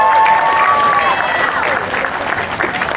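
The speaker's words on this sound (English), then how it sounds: "How about a round of applause for our whales and trainers?" An aquarium audience claps for beluga whales and their trainers, a broad crowd patter that starts strong and tapers off, with a whistle-like tone early on and voices mixed in.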